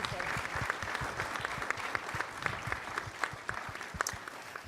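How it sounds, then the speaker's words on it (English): Audience applause at a community conversation on teen gun violence, a dense steady patter of many hands clapping through the whole stretch, moderately near and fairly even, with faint voices mixed in. "Please give them a round of applause."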